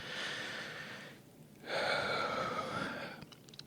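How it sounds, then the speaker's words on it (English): A slow, deep breath drawn in and let out during a guided tapping relaxation exercise, soft and close, with two long airy swells separated by a brief pause and no talk. "take a nice big deep breath"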